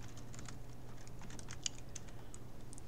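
Steady typing on a computer keyboard as code is entered, a quick stream of soft clicks close by, alone without speech.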